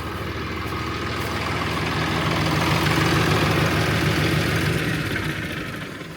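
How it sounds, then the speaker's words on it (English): A Massey Harris tractor engine idles nearby with a steady mid-low chug that swells slightly and then eases toward the end. "Let me shut this tractor off."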